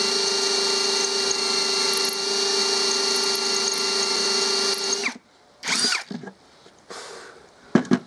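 A PROCRAFT PA 21 Li cordless drill in hammer drill mode runs steadily with a loud buzzing whine for about five seconds, then stops, followed by a few short rattles and knocks.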